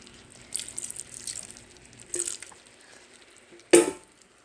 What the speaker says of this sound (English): add just a smidge of water in here